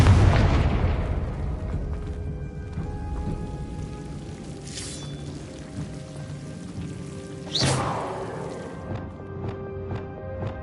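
A Confringo blasting curse in Hogwarts Legacy goes off with a loud boom at the start and fades in a long crackling rumble, then a second, sharper blast partway through decays the same way, with no talking.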